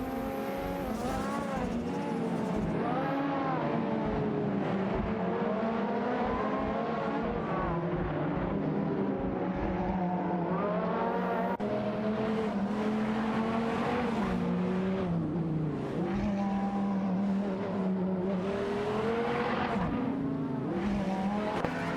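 Ferrari race cars, including a Ferrari 512 TR, battle in an AI racing video game, with loud continuous engine whine shifting pitch as they rev and pass, tire squeal mixed in, steady throughout.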